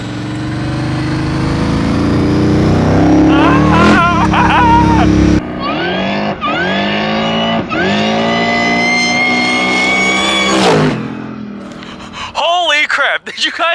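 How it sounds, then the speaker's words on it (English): A supercharged LS V8 swapped into a junkyard Volvo revs loudly nearby, its engine note rising and falling in several pulls with a rising whine, while people talk and exclaim over it. "did you guys hear that supercharger whine?"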